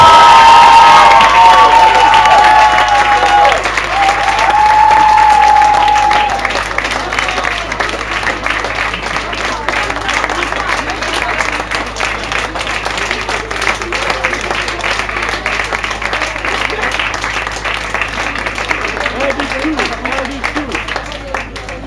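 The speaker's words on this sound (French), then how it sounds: "Et je pense qu'on peut l'applaudir vraiment bien fort." An audience in a French school setting applauds and cheers loudly for a departing staff member, dense clapping with shouts that fades to a steadier, quieter patter of claps over about twenty seconds, with some voices mixed in.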